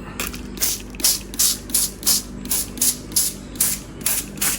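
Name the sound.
spraying water on salt bread dough before proofing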